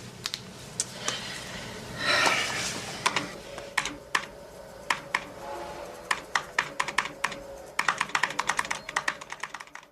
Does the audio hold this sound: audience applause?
no